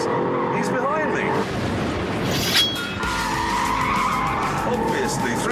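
An Audi R8 with a V8 engine and four-wheel drive cornering hard on a track, tires skidding and squealing over a steady engine roar, close and loud, with someone talking over it.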